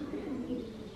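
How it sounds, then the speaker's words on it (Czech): Pigeons cooing somewhere in Czechia, a soft, steady low murmur of coos running through the whole second at moderate volume, with no other sounds over it. "Tam zalezli ty holubci všude."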